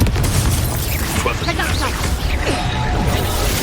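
Booming spell blast from Confringo in Hogwarts Legacy on PS5, a dense, loud burst of magical explosion noise that fills the clip, with game voices and effects layered over it.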